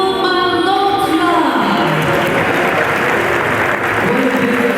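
Loud, sustained audience applause at an International Yoga Day celebration in Chicagoland, welcoming a singer, filling the hall steadily from start to finish with some voices mixed in.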